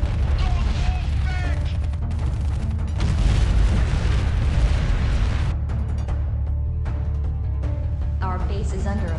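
A base building gets destroyed in the strategy game Art of War 3, with heavy booming explosions and rumbling blasts, plus a game voice announcing events over the battle noise.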